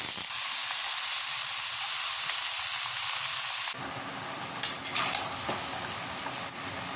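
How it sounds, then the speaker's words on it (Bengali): Mixed vegetables hit hot oil tempered with two dried red chillies and five-spice seeds, setting off a loud, steady sizzle. Partway through, the hiss drops sharply and turns quieter, with a few clatters of stirring. "এবার সবজিগুলো সব দিয়ে দেবো।"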